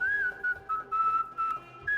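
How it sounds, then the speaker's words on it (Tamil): A hero in a Bhojpuri movie whistles to call a dog: a series of short, clear, high whistled notes in a broken melodic pattern, fairly close and alone. "ஹீரோ வந்துட்டு விசில் அடிச்சு அந்த நாயை கூப்பிடுவாரு"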